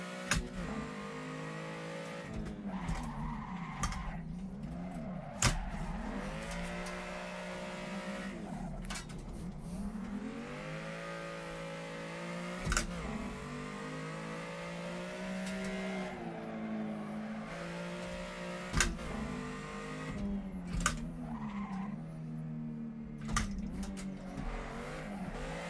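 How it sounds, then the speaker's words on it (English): Car drifting in a racing video game, a continuous engine whine rising and falling in pitch over a long stretch, broken by several sharp thuds and clicks, close and steady with no voices. "That one was not initiated with the handbrake, but it was still a great drift."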